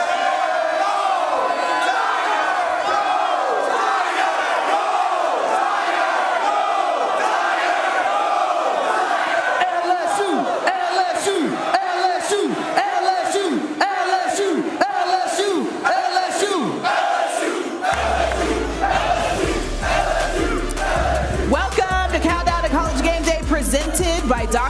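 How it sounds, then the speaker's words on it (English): A packed stadium crowd at an LSU football game against Alabama in Baton Rouge roars and yells loudly and continuously, with the din swelling and then carrying on under booming music near the end. "Harry Douglas, get this crowd loud for me, brother."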